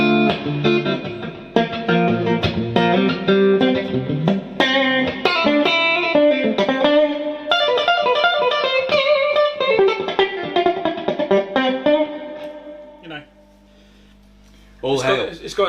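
A vintage 1960s slab-board Fender Stratocaster electric guitar plays a busy, distorted run of notes and chords with effects, then fades before a final strummed burst.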